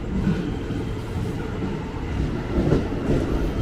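KRL commuter train bound for Bogor pulling onto track 3 at Depok station, a steady low rumble of wheels and cars rolling close by, with no voices.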